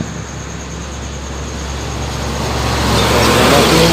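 A large ALS bus engine roars steadily and grows louder toward the end as it draws closer along the road, with constant traffic noise.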